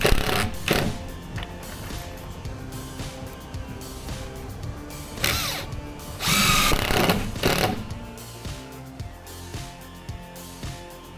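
Power drill driving fasteners into the floor of a roadside firewood rack, several close whirring bursts of varying length with brief pauses and some clunks between them, no voices.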